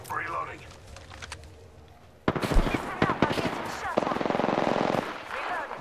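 Loud bursts of rapid automatic gunfire in an Apex Legends match start suddenly after a quieter stretch, with clustered shots and impacts continuing to the end.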